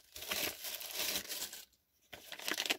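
A small plastic bag crinkles and rustles up close while it is opened to unpack parts for a Himoto Katana RC drift car. Two bursts of crackling are split by a brief pause.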